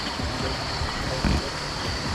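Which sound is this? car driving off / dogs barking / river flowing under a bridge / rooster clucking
river flowing under a bridge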